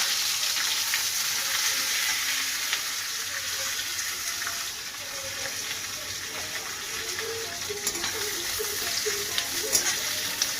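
Chopped onion frying in a hot pan for an aloo mash dish, a loud, steady sizzle with some stirring noise and faint background sounds, close up.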